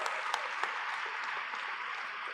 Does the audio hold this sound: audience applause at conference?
yes